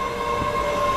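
A train stands at a station platform, a steady rumbling hum with a sustained tonal whine running under it, close and even throughout, with no voices.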